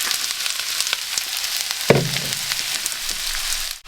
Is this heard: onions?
yes